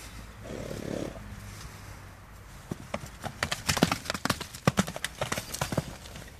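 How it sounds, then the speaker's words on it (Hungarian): A horse's hooves clip-clop on a hard surface, starting after a quiet, breathy lead-in and building into a loud, close, irregular run of sharp knocks. "De szép ez a ló."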